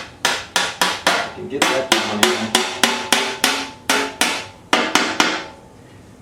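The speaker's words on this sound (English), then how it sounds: "I'm going to have to hammer it down past those welds" A motorcycle part on a GS550 cafe racer build is hammered down past welds, with about sixteen loud, sharp metallic blows in a fast steady rhythm, close by, and a brief spoken phrase in the middle.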